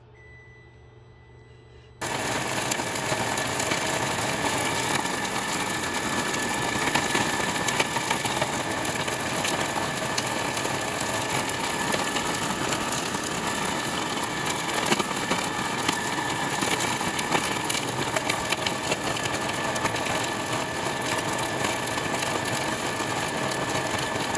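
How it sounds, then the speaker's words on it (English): Food processor grinding bones into a fine crumb for worm feed, starting abruptly and running as a steady, loud whirring rattle with constant gritty clatter throughout. "I blend it up to a fine crumb, and then I empty it into a bowl to look for large pieces of bone that the food processor may have skipped"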